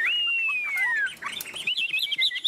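A tame Chinese hwamei songbird sings up close with no talk: a long clear whistle sliding downward, then a run of quick varied warbled notes rising and falling.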